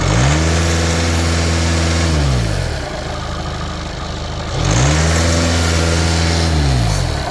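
A cold VAG car engine revved hard twice: each time the pitch climbs, holds at a loud roar, then drops back to a lower idle, close and with no talking.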